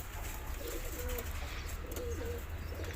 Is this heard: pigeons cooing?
yes